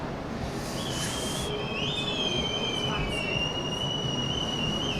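Whistles blow in the distance at the Vic Bay Quad surf contest finals, thin sliding tones drifting over a steady roar of wind and surf, with commentators talking faintly underneath.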